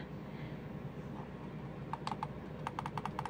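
Clicking of an Attack Shark X6 computer mouse, a quick cluster of sharp close clicks in the second half over faint background hiss, with no talking.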